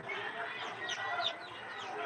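Small chicks peeping continuously in dense, high chirps, close and fairly loud throughout with no pauses.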